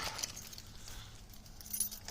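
A brief, faint metallic jingle of the keys to a 2000 Dodge Ram Cummins being picked up, with soft rustling in a quiet room.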